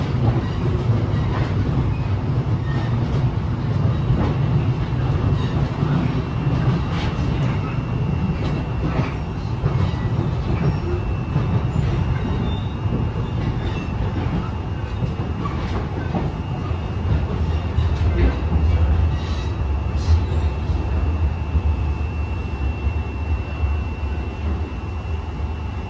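A Beijing subway passenger train runs steadily on its rails, with a continuous loud rumble and faint rhythmic clacking throughout. No voices are heard.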